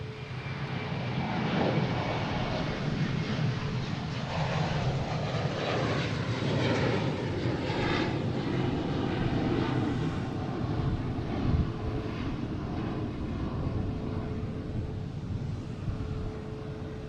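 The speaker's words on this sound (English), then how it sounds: "next taking off, we have American Airlines heading to LAX and A321" American Airlines Airbus A321 taking off at Boston Logan International Airport, a broad steady jet engine roar held for the whole stretch at moderate distance, with no talk over it.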